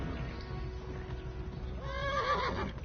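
A horse in the Kingdom Come: Deliverance video game gives a loud, shrill whinny near the end, rising over a steady bed of running hoofbeats and game ambience.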